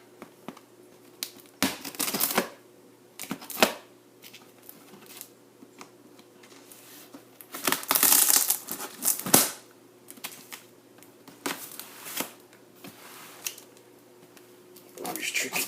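A cardboard shipping box holding a 90-gallon freshwater planted aquarium is cut open by hand, giving scattered scraping and tearing bursts with rustling and crinkling between them, close and moderately loud, with no talk.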